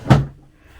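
A desk drawer shuts with a single close, solid thump followed by a brief low resonance that fades into quiet.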